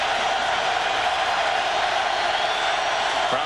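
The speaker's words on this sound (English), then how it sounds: "Crowd trying to help them out." Football stadium crowd at a 2002 Miami Hurricanes vs Boston College game: a steady, distant roar of cheering and noise that holds evenly throughout without peaks.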